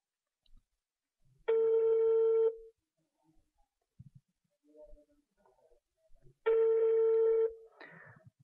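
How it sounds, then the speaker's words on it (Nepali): Telephone ringback tones, two steady one-second rings separated by a long pause, with faint handling noises and quiet clicks in between. "म फोन हान्ने कोसिस गर्छु"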